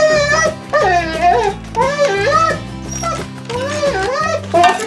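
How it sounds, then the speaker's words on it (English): A homestead dog whimpers, whines and yips in rising and falling cries, loud and close, with short pauses between bursts and low background noise underneath. "Listen to that dog."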